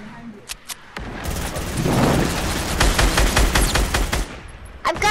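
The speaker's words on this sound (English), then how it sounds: "Where is he shooting at me?" Rapid automatic gunfire from the video game Fortnite, a dense sustained burst of shots with a few sharp single cracks at the start and end, loud and close.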